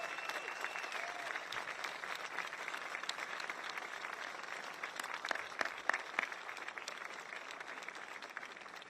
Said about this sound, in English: Can the Howe family wave for some applause?